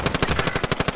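Rapid automatic gunfire from the video game Warzone rattles out in a fast, even burst of about a dozen shots within a second. It sounds loud and close.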